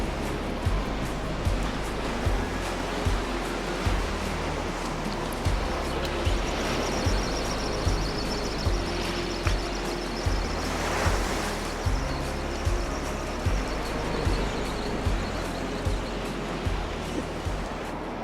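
Sea swell breaking on a Northumberland beach during a fishing session, a continuous close roar of surf with rhythmic low thumps from wind buffeting the microphone, with no voices.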